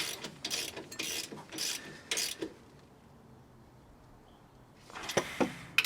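A ratchet tightens bolts on a Ford 7.25 rear end cover, with bursts of rapid close clicking strokes, a quiet pause, then another quick run of ratcheting at the end.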